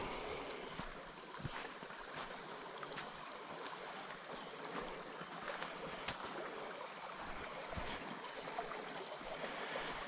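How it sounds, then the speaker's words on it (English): A small babbling waterfall in a forest creek at Bark Camp Creek in Daniel Boone National Forest, heard as a steady broad rush of water with soft splashes, continuous and fairly close. "let's go over to the little babbling waterfall over here"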